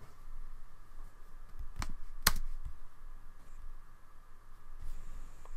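Computer keyboard typing while editing in Final Cut Pro X: a handful of sparse, close key clicks, one sharper strike, over a quiet room hum with no speech.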